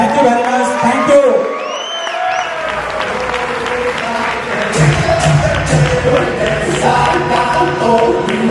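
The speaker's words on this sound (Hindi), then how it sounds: "दिनेश जी के लिए तालियां बजती रहनी चाहिए।" A crowd at a Kangen business seminar bursts into loud applause and cheering for Dinesh Agrawal, with whoops and shouts rising over dense continuous clapping and a faint speaking voice underneath.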